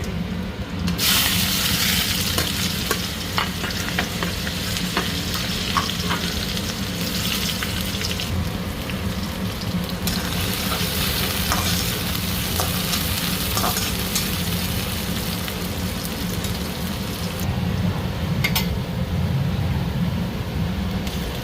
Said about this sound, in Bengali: তেল গরম হয়ে গেছে, তেলে দেবো জিরা, ফ্রাই মাশরুম হবে